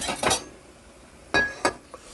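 Dishes and cutlery clink as freshly cooked food is served into a bowl in a home kitchen, with several sharp clatters and taps spread over a couple of seconds and no talking.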